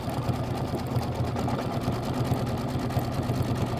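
An embroidery machine stitches trimming guidelines on a thick mini quilt with a fast, even mechanical chatter that stays steady and close throughout, and no one speaks.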